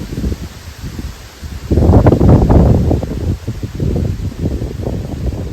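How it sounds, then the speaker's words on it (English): Wind blows outdoors in strong gusts, rumbling against the microphone with rustling surges that rise and fall. "I guess you can hear how much the wind is blowing."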